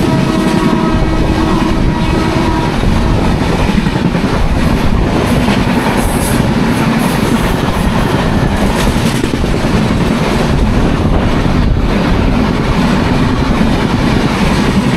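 A MEMU passenger train on the Panvel to Ratnagiri line runs fast on the rails, giving a loud continuous rumble with rhythmic wheel clatter and some high wheel squeal, heard from on board.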